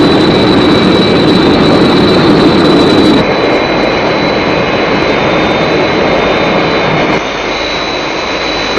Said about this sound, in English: I want you to make a dummy attack on Captain Scarlet's aircraft.